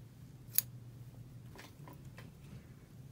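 A single crisp snip of scissors cutting through orange yarn during a crochet project, one brief sharp click standing out over a steady low room hum, followed by a few faint handling rustles.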